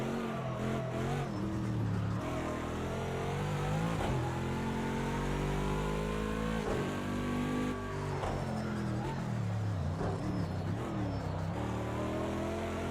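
Bentley Continental GT3 race car engine in Project Cars 2 at Bathurst, loud and continuous, revving up and dropping through gear changes as it accelerates and brakes around the track.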